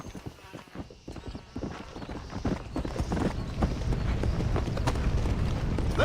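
In the Red Dead Redemption: Undead Nightmare game, a horse's hooves clop in a quickening gallop on the ground, loud and close, with a whinny near the start.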